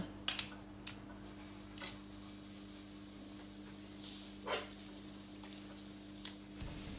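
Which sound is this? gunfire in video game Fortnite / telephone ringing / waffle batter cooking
waffle batter cooking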